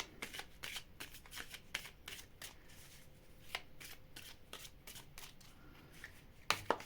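Playing cards being shuffled repeatedly, a run of quick crisp riffles and snaps close by, with no talking.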